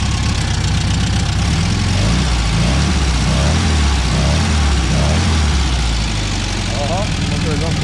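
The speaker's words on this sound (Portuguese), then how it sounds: "o motorzão ficou zero, hein? Um barulho legal, cara." The engine of a Volkswagen Fusca (Beetle) idles loudly and steadily after a repair, a dense continuous rumble close by.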